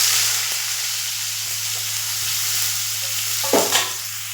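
Chopped onion hitting hot oil seasoned with whole cumin seeds in a kadai, a bright, constant sizzle and hiss close by, with a couple of stirring scrapes near the end.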